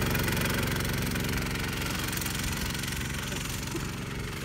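A small engine on a homemade offroad drift trike runs steadily and loudly throughout, with a rough, knocking low rumble that holds fairly constant with no talk over it.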